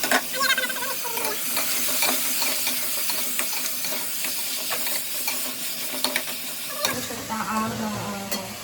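Peas and potatoes sizzle in a hot pan for masale bhaat as a spoon stirs and scrapes repeatedly, a steady close frying hiss that shifts in tone near the end, with no voices.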